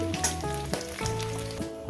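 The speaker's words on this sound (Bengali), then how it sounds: "ওই তেলের মধ্যে আমি বেগুনগুলো দিয়ে দেব" Eggplant pieces fry in hot oil with a steady, loud sizzle, broken by a few sharper crackles and faint tonal clinks.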